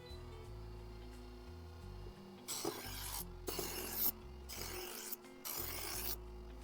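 A kitchen knife is drawn through an electric knife sharpener at a set speed, the motor humming steadily while several loud grinding rasps come up close, one after another, with no talking.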